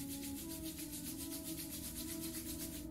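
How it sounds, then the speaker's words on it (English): Palms rub together briskly during a yoga exercise, making a soft rhythmic swishing with about a dozen even strokes, faint and close, with no talking. "now join palm to the chest, rub your palm"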